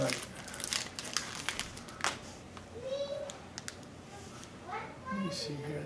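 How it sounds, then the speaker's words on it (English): A trading card pack wrapper from a 2012 Panini Prime Signatures football box is torn open with sharp crinkles and rips close up, while a voice talks intermittently. "I don't like opening the cards this way"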